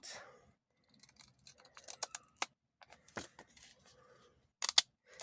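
Scissors cut through a folded paper bag in a string of sharp, quiet snips and crisp paper clicks, clustered unevenly with short pauses between.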